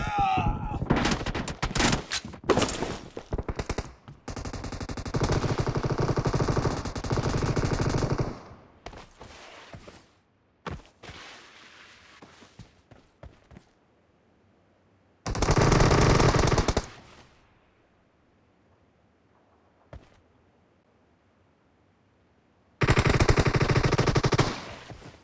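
S686 shotgun and Groza rifle fire ring out in a video game, with loud, close bursts of rapid automatic fire and single heavy blasts separated by quieter gaps.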